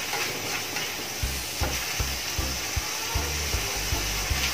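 Bopis ingredients sautéing in a pan give a steady sizzle and hiss, broken by a run of regular low thumps as they are stirred; no one speaks.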